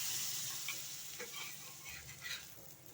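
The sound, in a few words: kulcha frying in butter on a pan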